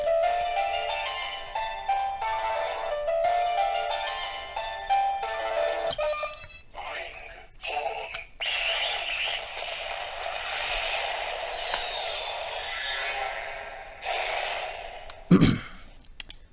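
Electronic chimes, jingles and voice effects from a Kamen Rider Den-o Wing Belt toy, belonging to Sieg's Wing Form, play close and loud in a steady series of bright bursts, with a sharp click near the end.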